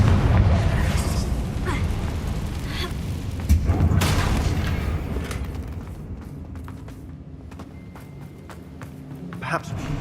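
Fiery spell explosions from a Harry Potter video game, several booming bursts with crackling debris, loudest near the start and again around four seconds, fading into a lower rumbling game ambience.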